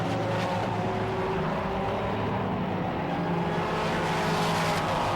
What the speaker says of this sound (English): This car you'll see on the overrun shoots quite a bit of flame out of the back, more like a DTM race car with that giant wing.